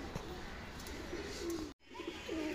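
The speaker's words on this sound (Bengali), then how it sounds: "মাদিটা আমার একটা পুরানো কবুতর" A pair of pigeons, an older female newly paired with a male, coo softly and repeatedly at close range, with low rolling calls rising over a quiet background and a brief silent gap partway through.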